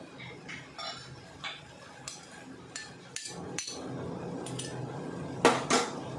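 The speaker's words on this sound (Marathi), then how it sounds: "आता मी अशीच थोडी हलवून घेते आधी" A spoon stirs drumstick leaves cooked with moong dal in a kadhai, making light metallic clinks and scrapes against the pan at an irregular pace, close by, with quieter stretches between clusters of taps.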